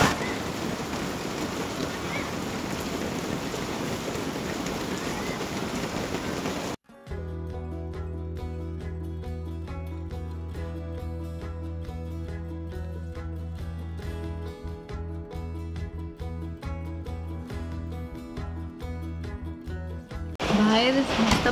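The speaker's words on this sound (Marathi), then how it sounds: "बाहेर मस्त पाऊस चालू आहे" Steady rain falls outside as a dense, even hiss for about seven seconds, then cuts abruptly to loud music.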